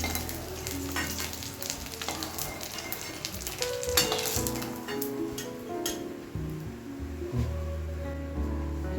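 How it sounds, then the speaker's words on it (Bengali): Fried eggs being lifted one at a time out of hot oil in a pan, with steady close sizzling and frying alongside light clinks and scraping of a utensil throughout. "এবার একটা একটা করে তুলে নেব।"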